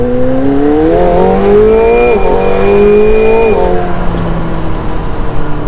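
McLaren 720S Spider with sport exhaust in track mode and manual gear selection, engine pulling hard from inside the cabin with rising and falling pitch through gear changes, loud and continuous.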